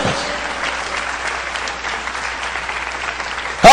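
Church congregation applauding in a dense, steady wash of clapping that holds at an even level throughout, with a voice cutting in loudly at the very end.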